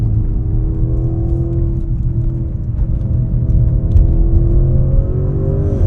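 Modified 2015 Audi S6 engine pulling hard in second gear, a steady low rumble with a rising whine building throughout, heard from inside the car with no talking.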